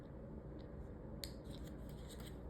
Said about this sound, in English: I just take my scissors down that little slit to the corner